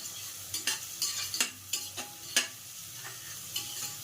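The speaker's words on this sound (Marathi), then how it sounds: "असा कांदा आपला छान छानपैकी लाल भाजून द्यायचा आपल्याला" Onion and garlic frying to a red-brown in a pan, a spoon stirring and scraping in sharp intermittent strokes over a soft sizzle, close and quiet, with no voices.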